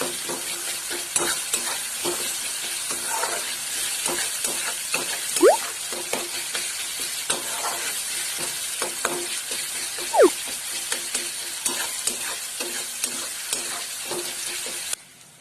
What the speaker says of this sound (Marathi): आणि टोमॅटो चांगले फ्राय करून घ्यायचे, मऊ व्हायला पाहिजे ते.